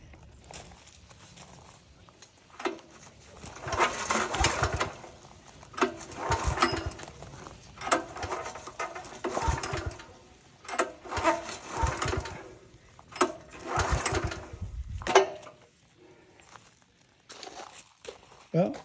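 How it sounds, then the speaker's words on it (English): Starter cord of a pressure washer pulled repeatedly with the engine off, producing a series of close rasping, whirring pulls in irregular bursts separated by short pauses, with a person talking at times. "pull on the cord a few times, work it around with the engine off"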